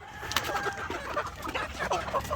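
Several Shamo, Asil and gamefowl-cross chickens cluck and chatter continuously at close range in a shared coop, a busy, overlapping flock sound with no talking.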